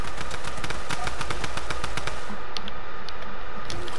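Rapid bursts of gunfire rattle continuously, dense repeated shots with a machine-gun-like clatter, loud and close throughout, with no talking.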